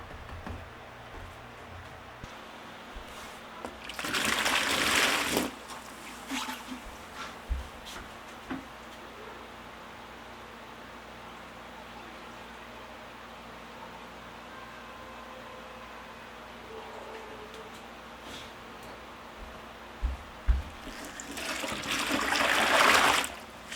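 Hot water is poured from a dye pot in two splashing bursts, one near the start and one near the end, with quieter trickles and clinks between them and no talking.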